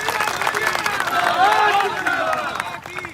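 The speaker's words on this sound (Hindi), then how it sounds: "जोरदार तालियां होनी चाहिए धीरज जी के लिए।" A crowd claps and cheers at a political rally during a membership campaign in Raniganj, Pratapgarh, with a burst of applause heard under a loud amplified voice.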